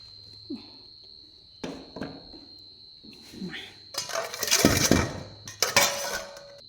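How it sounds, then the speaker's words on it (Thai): Chilies are pounded in a mortar with a pestle in a home kitchen: a few heavy, clattering thuds and sharp clinks come close and loud in the second half. Someone talks over them, and a steady high insect-like whine runs underneath. "เดี๋ยวไปตำพริกก่อน"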